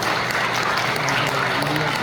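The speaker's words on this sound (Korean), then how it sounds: "여러분 큰 격려의 박수 한번 부탁드리겠습니다" Sustained audience applause at a Korean church assembly candidate hearing, dense even clapping from a seated crowd, continuous and fairly loud throughout the short moment.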